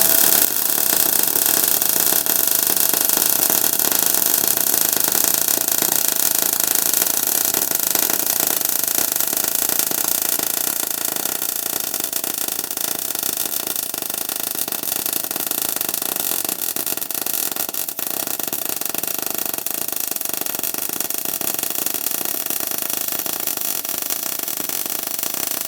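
R-Tech MIG181 digital MIG welder running on a base setting while welding 3mm steel plate: a loud, continuous crackling and sizzling arc that holds steady and close throughout, with no talking.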